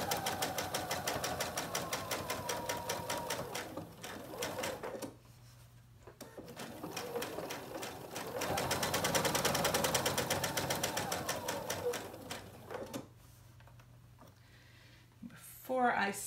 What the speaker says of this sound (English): Before I sew over that